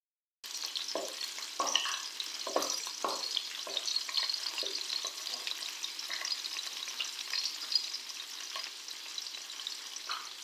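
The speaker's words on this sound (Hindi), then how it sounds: "इसमें मैं ऐड कर दूँगी लहसुन के मैंने जवे लिए हैं। अब मैं इन्हें हल्का सा फ्राई कर लूँगी।" Garlic cloves frying in hot oil in a karahi give off a steady, close sizzle throughout, broken by brief louder crackles and spatters as the pieces are stirred, with no talking.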